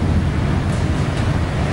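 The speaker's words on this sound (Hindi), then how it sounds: "खौफ पैदा करती समंदर की लहरें" Stormy sea during Cyclone Titli in Odisha: a dense, steady roar of wind and crashing waves, loud and close, with gusty buffeting throughout.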